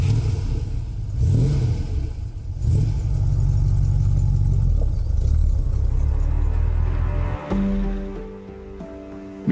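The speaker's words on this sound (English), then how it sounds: "Michael Pitchell loves taking his convertible for a spin here in the Bavarian Alps" A vintage German convertible with a six-cylinder engine drives through the Bavarian Alps, its engine a loud, sustained drone that holds steady and then eases off, with gear-like tonal shifts toward the end.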